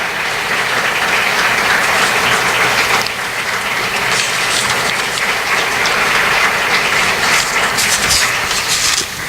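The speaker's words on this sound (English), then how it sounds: "We want to ask for a big round of applause." A large audience at a conference closing ceremony applauds loudly and steadily, a dense wash of clapping that lasts throughout.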